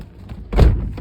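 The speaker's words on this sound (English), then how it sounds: "Let me shut this door." A Toyota C-HR car door is shut with a single dull, close thud, followed by a brief low rumble.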